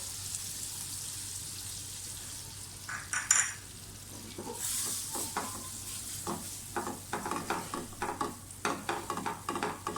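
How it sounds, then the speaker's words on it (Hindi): Butter melts in a hot pan for a white sauce, giving a soft sizzle with a sharp crackle early on, then a run of light rhythmic scraping and tapping as a spatula stirs. "पैन हमारा गर्म हो गया, बटर डाल दें।"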